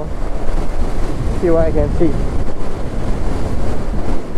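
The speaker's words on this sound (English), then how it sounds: "Very windy also." Strong wind buffeting the microphone while riding a motorcycle, a loud continuous rumbling roar with a man's brief speech over it.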